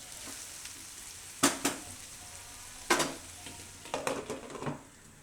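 Sprouted fenugreek and potatoes cook in a pan on medium heat, a soft steady sizzle broken by several louder scraping stirs and clinks.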